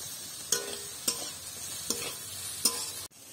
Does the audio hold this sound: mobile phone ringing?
no